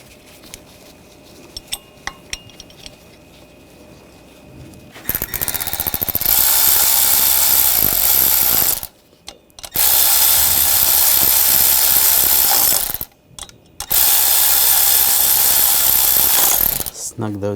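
Bolts on the water pump pulley of a 2013-2022 Buick Encore 1.4L L4 engine are run down with a powered ratcheting tool: three loud, close bursts of harsh whirring, each a few seconds long, separated by short pauses.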